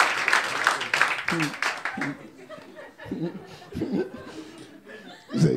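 Comedy club audience clapping and laughing together, a burst of applause that fades into scattered chuckles, with a performer talking over it.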